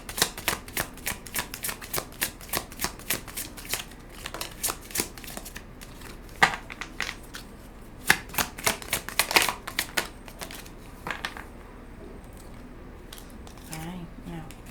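Tarot cards being shuffled by hand, with dense bursts of crisp riffling and slapping card sounds that repeat throughout, close and fairly loud, with soft speech and a brief low voice near the end.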